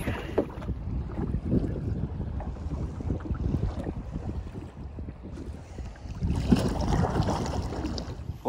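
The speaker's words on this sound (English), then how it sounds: "Wind really picked up" Strong wind buffeting the microphone while kayaking on a stream, a loud continuous rumbling gust noise that dips briefly and then surges again.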